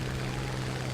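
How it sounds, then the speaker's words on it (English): A Spitfire's engine drones in the War Thunder combat flight game, a steady, even hum with a strong low tone and no breaks, heard alone without talk. "So the Spitfire I'm in now is actually a level 1 plane"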